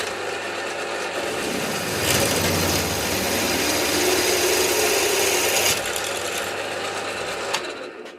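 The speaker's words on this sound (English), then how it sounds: "So each time I drill a hole I'm going down a speed." A drill bores holes through metal cross pieces for a homemade antenna bracket, a steady high whirring and grinding that grows louder as the bit bites, then stops, close and alone.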